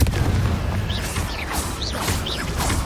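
A Confringo fire spell blast in Hogwarts Legacy: a dense, roaring burst of fiery rumble and crackle that holds steady and loud throughout, with faint whooshing swirls above it.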